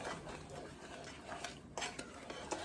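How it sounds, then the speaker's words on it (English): A spoon stirs heavy whipping cream into sugar and butter in a pot for candied yams, a faint steady swishing with occasional light clinks against the pan, no voices. "I'm gonna stir that up as well"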